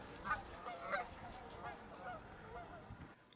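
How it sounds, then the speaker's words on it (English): Canada geese honk in a few scattered calls at a distance, faint over quiet outdoor background noise, in fire-damaged forest near Detroit, Oregon. "A flock of Canada geese were there to meet us, and then they left."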